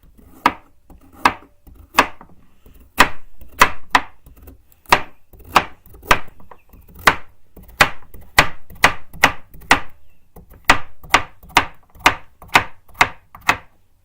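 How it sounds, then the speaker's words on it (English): A knife chops carrots on a board in crisp, close, evenly spaced thuds, about two dozen strikes with brief pauses between bursts, no talking. "So now, I'm gonna cut carrots."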